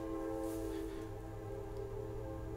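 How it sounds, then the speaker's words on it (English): Train on a track passing near a house, heard as a faint, steady horn-like drone with a low rumble that holds throughout and carries no speech. "We live near a train track."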